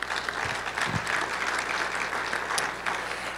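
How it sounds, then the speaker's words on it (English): Audience at a National Hall of Fame induction ceremony breaking into steady, dense applause, a room full of clapping hands sustained throughout. "a little round of applause for that"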